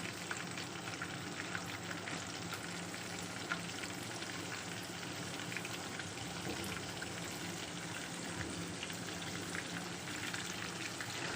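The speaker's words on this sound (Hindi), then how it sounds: "ये देखिए जी, एक साइड से फ्राई हो चुकी है।" Lahori-style fish frying in a pan over a slow flame gives a steady, even sizzle and crackle of hot oil. It runs continuous and fairly quiet throughout, with no talking.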